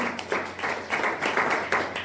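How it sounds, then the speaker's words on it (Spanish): A church congregation clapping in rhythm for the Lord during a sermon, with distinct bursts of claps roughly every quarter to half second, fairly close and moderately loud. "Denle ese aplauso fuerte al Señor."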